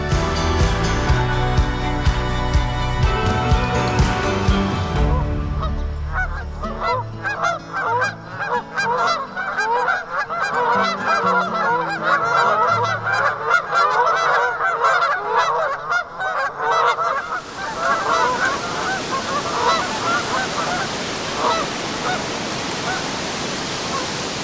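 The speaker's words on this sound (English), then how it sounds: "While geese were flying south," A flock of geese honks while flying south, a dense overlapping chorus of calls that starts under a rising, tonal wash and later blends into a steady rushing noise.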